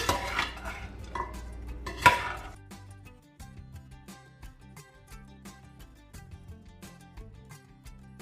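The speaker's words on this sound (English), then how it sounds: "I am going to give this a stir." A spoon stirs a minced pimento mixture while curry duck is being cooked, giving a few light metallic clinks and scrapes in the first seconds, with a sharp knock near the two-second mark, then quieter faint clatter over soft tonal background sound.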